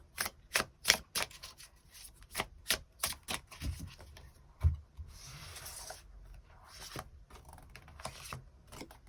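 Tarot cards are drawn and laid out in a run of sharp, close card snaps and taps, quick at first, then spaced out, with a soft shuffling rustle partway through.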